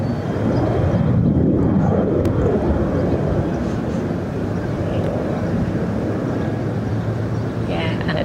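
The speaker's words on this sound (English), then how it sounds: "We've got easyJet taxiing towards us" An easyJet airliner taxis at Barcelona airport, a broad engine rumble with a sweeping whine early on, then a steady drone, while voices talk over it.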